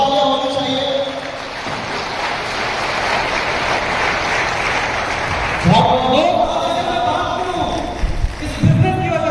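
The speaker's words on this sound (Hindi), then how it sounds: "जोरदार तालियां होनी चाहिए" Audience applause at a live speech event as someone is invited onto the stage: dense, steady clapping fills the first six seconds, then a voice speaks over fading noise.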